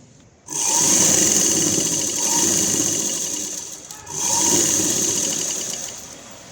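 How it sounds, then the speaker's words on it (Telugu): A sewing machine stitches a lined blouse in two steady whirring runs with a short pause between, close and continuous, no talk. "అలా చిన్నగా కుట్టుకుంటూ రావాలన్నమాట"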